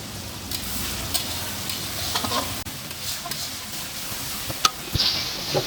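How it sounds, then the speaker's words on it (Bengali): Boiled mutton sizzles in a hot wok while a spatula stirs it, with scraping strokes and sharp metallic clinks up close. "এখন সেদ্ধ করা মটনটি কড়াইতে দিয়ে দিচ্ছি"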